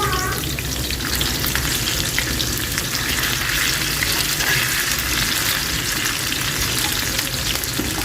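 Chicken kebabs frying in hot oil for an iftar meal, a steady dense sizzle that continues unbroken throughout, close and fairly loud with no talking.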